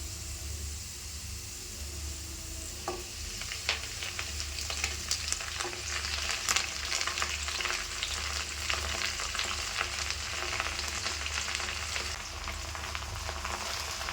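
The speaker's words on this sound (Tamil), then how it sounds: "கீரையை சேர்த்து கலந்து விட்டுக்கலாம். இந்த எண்ணெயில் இது கொஞ்சம் நல்லா வதங்கட்டும்." Vallarai (brahmi) greens sauté in hot oil with garlic for a pickle, giving a steady, close frying hiss throughout with a few faint stirring clicks and no talk.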